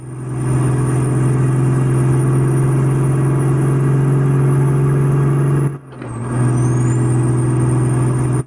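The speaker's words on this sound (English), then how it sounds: "So I've got 3 different turbo whistles in there to get that sound that I wanted." A loud, steady truck engine drone with a high whistling turbo tone, briefly dropping off mid-way before the whine rises again; a custom V12 Cat 3412 engine with three turbo whistles in American Truck Simulator.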